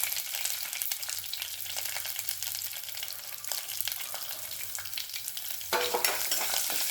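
Ginger and green chilies saute in a pan with curry leaves, a close, even sizzle running throughout with occasional stirring scrapes and a louder burst near the end.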